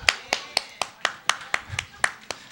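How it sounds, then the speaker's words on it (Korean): Congregation at a midweek church service clapping to welcome speakers forward, about a dozen sharp, evenly spaced claps heard close, with faint murmuring voices in the room. "박수로 환영해 주시고"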